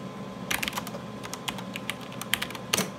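Keystrokes tapped on a computer keyboard connected to an Altair 680 running FLEX, sounding as irregular bursts of sharp clicks, close and fairly quiet, with no talk.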